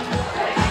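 Wedding guests at a Vietnamese bride's send-off ceremony in Cà Mau break into a short burst of applause, a dense, steady crowd clapping with some cheering mixed in.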